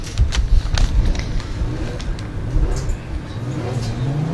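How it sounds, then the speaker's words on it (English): A JZ-engined E36 BMW drift car warms its rear tyres at the Buxton round of the British Drift Championship. Loud engine revs rise and fall in repeated bursts, with a rising whine building toward the end. "Will Gibbs warms up the tyres at the back of this car."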